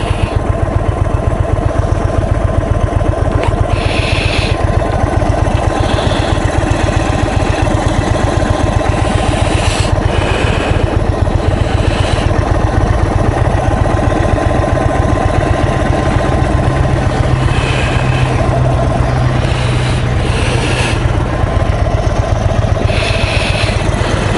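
An Indian Chief Dark Horse 2021 custom motorcycle engine idles steadily and loudly up close, a continuous low throbbing rumble that never stops for the whole stretch.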